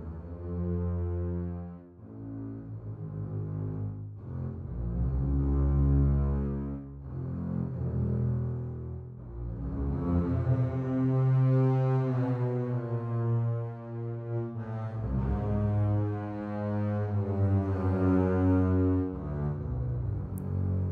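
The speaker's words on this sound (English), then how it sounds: "And here we've got the bass solo right here." A solo double bass from the Spitfire Audio Appassionata Strings library plays a slow, sustained melodic line, deep bowed notes rising into higher phrases, rich and resonant with no other sounds.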